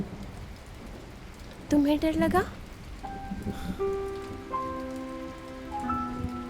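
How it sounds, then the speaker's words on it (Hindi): Rain falling steadily on surfaces during the rainy season, a constant hiss under a brief spoken question and soft background music. "बरसात का मौसम"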